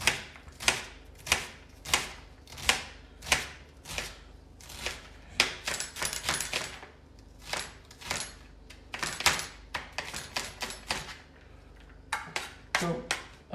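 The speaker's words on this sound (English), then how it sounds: "all I'm going to do now is run the knife through it and dice it up." An onion being diced with a knife on a cutting board while making turkey chilli, a run of sharp, close chops in an irregular but steady rhythm, some quick flurries, lasting throughout.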